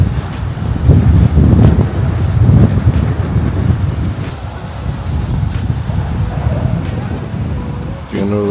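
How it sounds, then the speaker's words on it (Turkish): Wind blowing across the beach at Bademlik in Karaburun, buffeting the microphone with loud, steady low rumbling gusts under a man's speech throughout. "Burada da rüzgar var."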